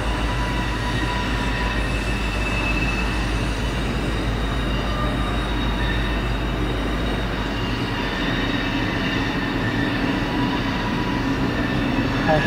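A train rumbles past close by, a steady, loud roar of wheels and rail noise with faint metallic squealing, continuous throughout.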